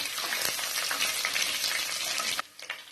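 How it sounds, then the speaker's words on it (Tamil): Onion vadagam fries in hot oil for a kulambu, a loud, close, crackling sizzle that drops away sharply near the end, leaving a few softer pops. "இதையும் போட்டு நம்ம பொரிய விட்டுறலாம்"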